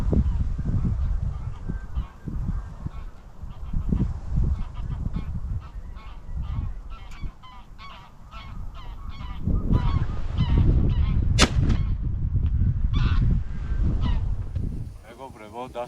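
Geese honking repeatedly overhead during a waterfowl hunt, loud overlapping calls in uneven bursts with field noise, a sharp bang near the middle, and voices speaking at times.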